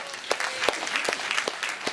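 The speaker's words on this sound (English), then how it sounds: "Give him a round of applause." A room full of people clapping steadily at a scholarship brunch, a dense patter of hands with a few sharper claps standing out, no voices on top.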